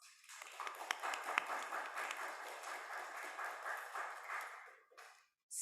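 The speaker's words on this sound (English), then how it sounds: "Let's give them a round of applause." An audience at a lower school awards ceremony applauds for its teachers, a burst of fairly soft, steady clapping that lasts about five seconds before cutting off.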